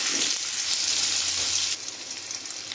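Potatoes frying in oil seasoned with salt and turmeric, producing a dense close sizzle that drops suddenly to a quieter crackle partway through.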